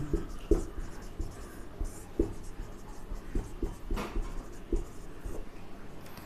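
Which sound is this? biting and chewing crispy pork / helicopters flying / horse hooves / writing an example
writing an example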